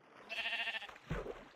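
A sheep bleats in the Minecraft video game, a single drawn-out, wavering bleat followed by a brief lower grunt, heard alone and fairly faint.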